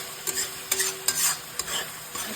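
Whole spices frying in hot oil in a pan while being stirred for a fish dish, with a steady sizzle and several sharp scraping stir strokes at irregular intervals, close and clear with no talk.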